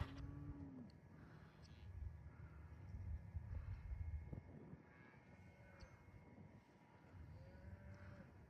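Cows moo in a small field at night, low drawn-out calls rising a few times at a distance over faint steady background noise.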